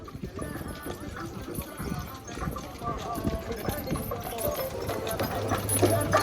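Horses' hooves clip-clop near the pyramids in Cairo, Egypt, as a steady walking rhythm of light knocks heard under nearby talk and general outdoor bustle.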